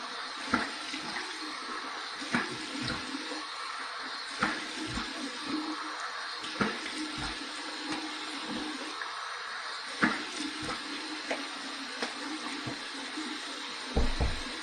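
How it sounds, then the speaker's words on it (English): Warm water runs steadily from a tap into a sink for rinsing after a shave with a titanium razor. The flow is continuous and fairly close, broken by occasional splashes and light knocks. "Here's my warm water rinse."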